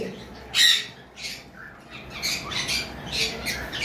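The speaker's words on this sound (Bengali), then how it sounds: "এবার আসি আমাদের কাছে সানচিক কোনোর রয়েছে" A sun conure, a deep red-orange bird, lets out several sharp squawks, one loud burst near the start followed by a run of shorter calls, close and fairly loud against a quiet background.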